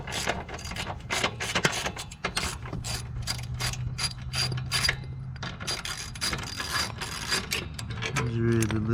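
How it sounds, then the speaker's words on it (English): A hand wrench ratchets in dense, rapid bursts of clicks while parts come off a 450cc Honda Nighthawk dual sport motorcycle. The clicking is close and busy, with a few pauses and some clanking, and no talk. "I gotta get a wrench for that."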